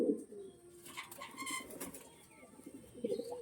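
Domestic pigeons coo close by in a few soft, rounded phrases, with light wing flutters and chirps mixed in.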